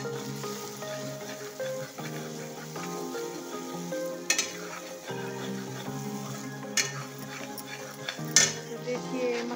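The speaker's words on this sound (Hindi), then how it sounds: "देखिए, मसाला हमारा भुन चुका है।" Masala sizzles and fries in a pan on a home kitchen stove while a utensil stirs it, with steady frying hiss and occasional clinks of metal against the pan.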